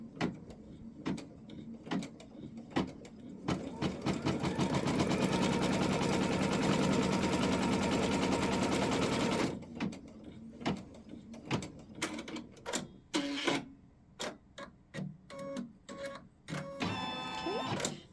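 Sewing machine stitching fabric pieces for a quilt block, running in a steady rapid whir for several seconds, then short start-stop bursts and mechanical clicks, close and fairly quiet.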